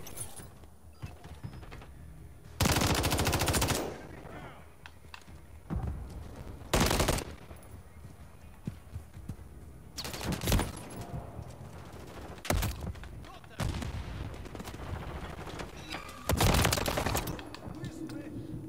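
Gunfire from a Call of Duty MW3 beta multiplayer match: loud bursts of automatic fire and sharp single shots break out several times over a steady background of game sounds and mechanical clicks.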